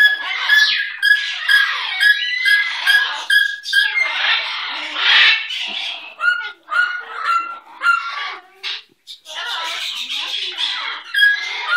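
Pet bird Liberty squawks and chirps in a string of loud, close bursts, some long and harsh and some short and clipped, with brief pauses between and no talk over the calls.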